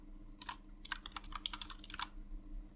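Quiet keystrokes tap out on a computer keyboard while a form is filled in, short irregular bursts of clicks with brief pauses between them, close and faint.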